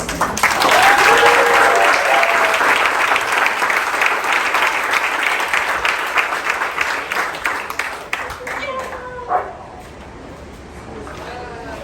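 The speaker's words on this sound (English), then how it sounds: "so just a big round of applause to everyone" A crowd at a Brown University community coordinators' union meeting gives a long round of applause that swells early, then thins to scattered claps as a voice begins speaking near the end.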